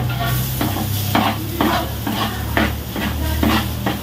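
Onions sauté in a pan with garlic and ginger, stirred in a steady rhythm of close, loud scraping strokes, roughly one every half second, over a continuous bed of sizzling frying.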